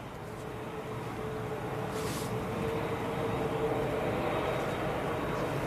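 Jet airliners at Manchester Airport, an SAS jet taxiing past while an Airbus A380's engines spool up, giving a steady, broad roar that swells slightly over several seconds without speech.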